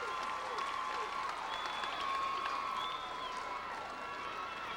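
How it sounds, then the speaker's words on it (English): Steady crowd applause fills a 1995 women's exhibition baseball game between the Colorado Silver Bullets and the Hollywood Star Sox, a broad, even clapping wash with scattered cheers from a cheering section, continuous throughout. "the applause you hear is not because Kevin Costner went out to shallow left. It's applause for Tamara Ivy"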